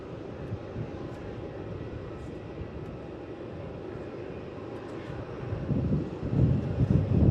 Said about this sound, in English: we've got a Rex taking off in the background